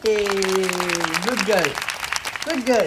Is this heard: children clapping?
yes